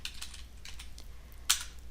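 Fingers tapping a computer keyboard in short, uneven bursts of clicks, close and moderately quiet, with one sharper, louder keystroke near the end; no voices.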